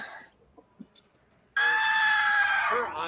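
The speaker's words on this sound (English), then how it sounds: "I forgot she was screaming like a banshee." A woman screams in a played video, a long, piercing, sustained shriek that starts abruptly after a quiet stretch and runs loudly to the end.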